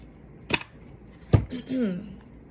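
Scissors snip a small piece of jute cord in two short sharp cuts about a second apart, close and clear, followed by a brief soft rustle.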